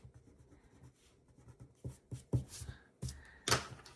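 Pencil writing on a character sheet for a tabletop role-playing game, heard close and quiet as soft scratchy strokes that grow into a few louder scribbles near the end.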